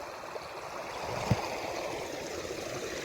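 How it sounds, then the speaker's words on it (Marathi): Rain-swollen stream running full after heavy Konkan downpour near Dapoli, a steady broadband rush of flowing water close by with one brief knock, no talk. "पाऱ्याला पाणी आला मित्रांनो"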